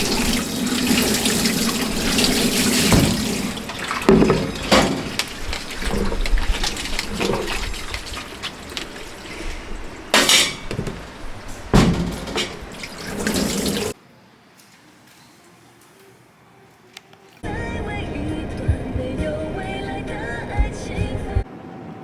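Running water rinsing equipment at a tea factory, a steady loud gush and splash that continues for a long stretch, briefly drops away almost to silence, then resumes just as strongly.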